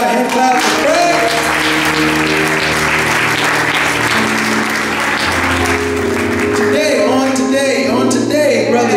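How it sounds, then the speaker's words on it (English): A church congregation claps in praise, sustained applause filling the room over a music bed, with a few voices calling out beneath it. "give God a hand clap of praise."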